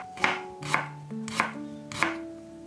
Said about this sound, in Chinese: 准备酱料，把姜切片儿